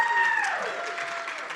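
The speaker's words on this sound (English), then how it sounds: "Please, round of applause again." Applause from an audience at a humanist ethics event, a dense wash of clapping that fades slightly as a tone drops away at the start.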